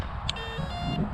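A few short electronic calibration beeps from the speed controller of a modified electric Sig Kadet Senior RC plane, faint tones under a steady low hum with no talk.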